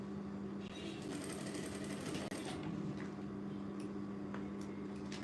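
A sewing machine runs steadily while stitching a wave-pleat curtain, a loud, close, continuous mechanical whir with a fast rattling pulse that hardly changes, no voices over it.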